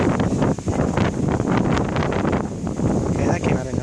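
Strong wind gusting during a thunderstorm with hail, a loud continuous roaring rush buffeting the microphone, with people talking over it.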